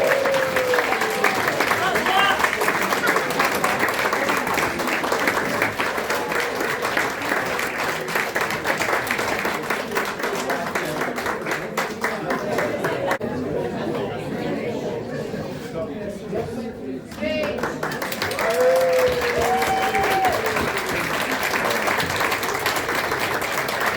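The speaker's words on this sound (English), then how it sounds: "A huge round of applause, please, to all the contestants today." An audience applauding at the World Pudding Championships in Yorkshire, sustained clapping that fades briefly in the middle and swells again, with crowd chatter and a voice over it.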